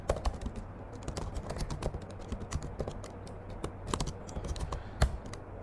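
Keys clatter on a computer keyboard as a server command is typed, a quiet, irregular run of close taps and clicks with no one speaking.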